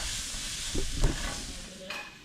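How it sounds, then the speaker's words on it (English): Onions cooking in a pan with garam masala, a soft sizzle with a few stirring scrapes and clatters, moderately faint and close, with no talking. "You're gonna cook this with the onions until fragrant but not burnt"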